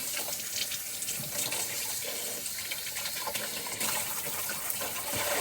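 A cold kitchen tap pours a steady, close, loud stream of water over raw chicken to rinse off the blood, running without a break and with no talking.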